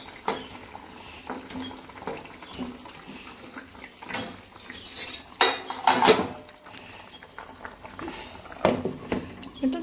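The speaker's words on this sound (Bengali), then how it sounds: "আলু সিদ্ধ হয়ে গেছে, আর ডিমগুলো দিয়ে দেবো এবার" Eggs go into a pot of boiled potatoes for a home-cooked egg curry. Metal clinks and clatters of utensil against pot come in scattered bursts over a low simmering hiss, moderately close.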